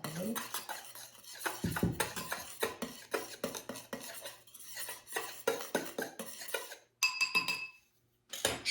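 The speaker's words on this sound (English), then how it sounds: "I'll just stir this up a little" A spoon clinks and scrapes briskly against a bowl while fruitcake cookie mixture is stirred, repeated rapid clatter up close, with a short pause and then a few final taps.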